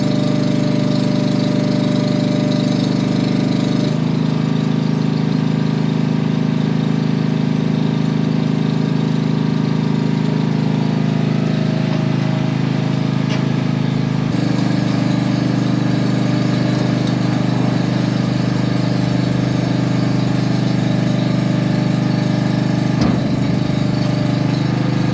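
A dumpster trailer's engine, brought back after a suspected vapor lock, runs steadily at idle with a low, constant drone for about 25 seconds, briefly shifting in tone partway through, with no talking.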